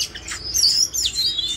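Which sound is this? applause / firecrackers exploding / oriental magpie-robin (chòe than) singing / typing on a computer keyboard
oriental magpie-robin (chòe than) singing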